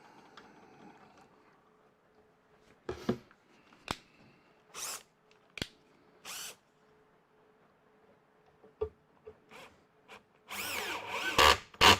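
A power drill drives self-tapping screws into a lathe cart in short separate bursts, several whirring runs between quiet pauses, close and fairly loud, with scraping and rubbing handling noises in between.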